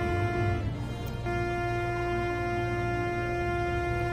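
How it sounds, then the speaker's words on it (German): Train horn on a vehicle in the LEGO City Undercover video game, a steady sustained multi-tone blare held for several seconds over a low engine rumble, loud and close with no talking. "Die Hupe passt einfach zum Lied."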